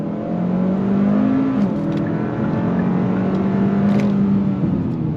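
A 2023 Kia K5 GT sedan accelerates on throttle, heard from inside the cabin as a steady engine drone that rises slightly in pitch, with road noise underneath and no talking.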